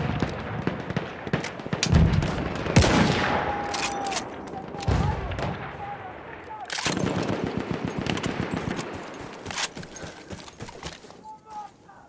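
Rapid machine gun fire rattles through a Battlefield 1 battle, with dense bursts and scattered gunshots close by, mixed with whistling tones, clattering hoof-like thuds and brief shouted voices over a busy wartime soundscape.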